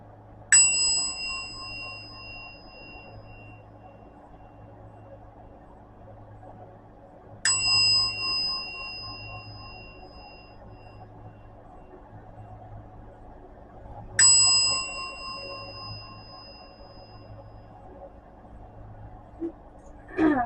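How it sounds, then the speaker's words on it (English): A resonant hand bell is struck three times, about seven seconds apart, each bright ring decaying slowly over a low steady hum. "I'm going to ring this bell just to clear the air and the space around us"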